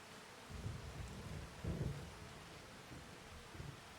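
Rain falls steadily in a farming video game, a soft constant hiss, while low thunder rumbles in quiet swells near the start and middle. The whole scene is faint, and no one talks.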